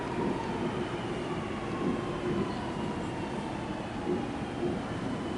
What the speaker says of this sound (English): And it's departing for the sidings.